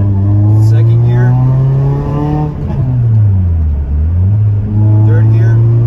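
A Toyota Corolla engine fitted with an MWR short shifter accelerates in second gear, heard loud and close from inside the car. Its steady drone climbs in pitch, dips briefly, then rises again.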